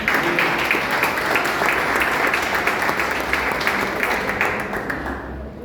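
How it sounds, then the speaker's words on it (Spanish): Congregation applauding together in a church service, a dense, steady wash of many hands clapping close and loud for several seconds, tapering slightly at the end. "Denle un aplauso a Dios."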